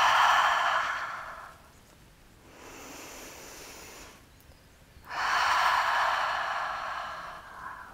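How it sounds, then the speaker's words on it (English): Two deep nasal breaths during a beginners' yoga session, each a long airy exhale fading over a couple of seconds, with a softer inhale between them, close and alone. "And exhale to let something go."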